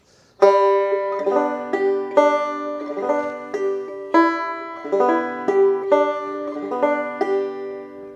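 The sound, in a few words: clawhammer banjo bum ditties, second string fretted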